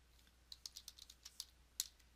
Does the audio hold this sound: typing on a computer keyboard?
yes